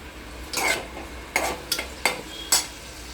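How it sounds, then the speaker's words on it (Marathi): Chopped onion in oil in a pan for a fenugreek and toor dal bhaji, with a low frying hiss broken by four or five sharp scraping stirs of a spoon against the pan. "कांदा टाकल्यानंतर यामध्ये आपण तेल टाकायचं आहे तेल टाकले"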